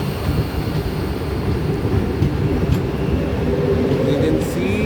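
Howrah to Kamakhya express train 27575 running along the line in India, a loud, continuous rumble of wheels and carriages that holds steady throughout.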